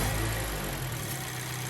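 Car engine with a misfire revs as the throttle is floored, a loud, steady low roar close by with no voices over it.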